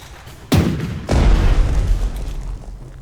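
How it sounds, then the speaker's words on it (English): Ship guns fire in Strategic Mind: The Pacific during a Coral Sea naval battle, two heavy booms landing about half a second apart, the second rolling on into a long, deep rumble that slowly fades. "Shooting at their carrier. Fire all guns."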